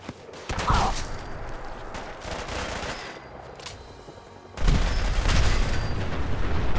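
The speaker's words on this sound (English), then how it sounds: "Who is shooting who?" Gunfire rattles through a Fallout 4 firefight, bursts of loud shots and rapid automatic fire, pausing briefly midway before erupting again even louder.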